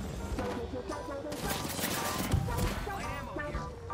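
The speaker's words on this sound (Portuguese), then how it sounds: "Esse aqui é o tiro mais fácil da vida do Uprise." Gunfire from an Apex Legends match, rapid sharp reports mixed with in-game effects and music, moderately loud against a busy background with a voice briefly under it.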